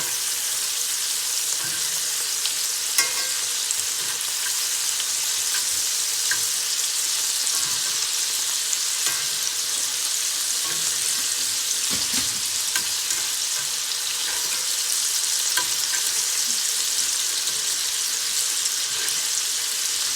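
Venison steak sizzles steadily in a hot pan, a loud continuous frying hiss with occasional pops and crackles, no voices.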